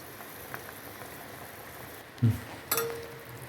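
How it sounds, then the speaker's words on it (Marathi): Coconut rice simmers covered on a low gas flame: faint, soft bubbling with two brief clinks near the end. "थोडा मंद गॅसवर होऊ द्यायचं झाकून ठेवून द्यायचं दहा मिनिट"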